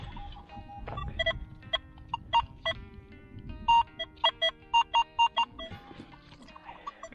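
A Nokta Makro Legend metal detector, searching outdoors in winter, sounds its target signal on a possible ring: a run of sharp, evenly spaced electronic beeps, clear and close over low background noise.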